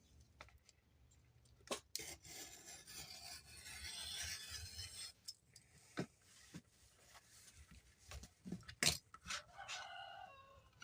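A rooster crows with a raspy, tinny tone, fairly faint, alongside scattered clicks and knocks; no one speaks.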